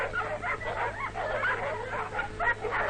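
Many dogs, Alsatians and Labradors at an army dog training centre in Casula, bark, yip and whimper together at feeding time, a faint, busy chorus heard at a distance.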